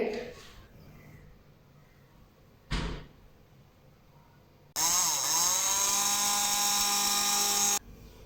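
Electric spice grinder blending dry coriander and cumin seeds, a loud, steady high whine lasting about three seconds after a couple of clunks from the lid being handled.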